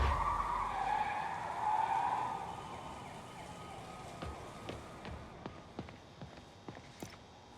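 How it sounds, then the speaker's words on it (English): Vehicle pursuit in the Marvel's Spider-Man video game: tyres skid loudly at first, then a rush of traffic noise fades as a series of sharp, distinct knocks and clicks sound out. "Pursuit in progress of multiple vehicles of masked hostiles."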